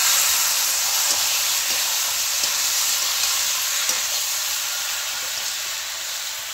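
Meat and potatoes sautéing in a pan on a village kitchen stove, giving a steady bright sizzle and hiss that fades slightly toward the end, with faint occasional clicks of stirring and no talking.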